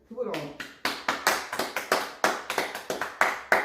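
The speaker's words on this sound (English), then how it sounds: "Can we get a clap for Pippen?" Sharp, separate handclaps ring out in a quick uneven series of about a dozen, close and fairly loud, during a casual sports talk show.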